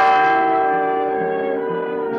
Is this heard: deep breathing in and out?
no